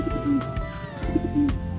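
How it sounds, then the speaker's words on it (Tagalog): A pigeon cooing close by, two low throaty coos with a soft background hum. "Gandang ibon."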